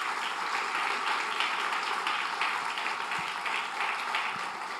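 A congregation at a church service applauds a woman named Belencita, a steady, fairly distant wash of clapping that holds evenly for about five seconds.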